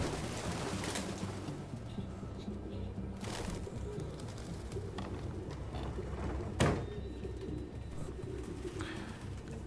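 Pigeons coo in the video game Detroit: Become Human, a low, soft burbling that sits under steady background ambience, with a brief knock or click partway through.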